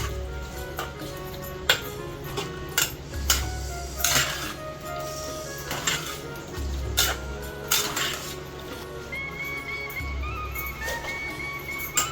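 Shevla vegetable, chopped onion and other ingredients being mixed together in a pressure cooker, with repeated clinks and scrapes of a spoon against the metal pot, some louder knocks and a faint background hum, no talking.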